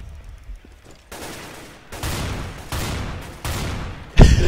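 Gunfire bursts from the video game Counter-Strike: Global Offensive during a round-robin match, with several loud rapid volleys separated by short pauses and ending in a sharp, booming blast.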